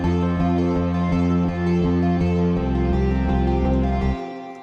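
A panning arc synth named Dancing Across the Aisles, used for a modern praise and worship chorus: a sustained, bright, rich tone pulsing in a steady rhythmic pattern, loud and alone, shifting pitch midway before fading out.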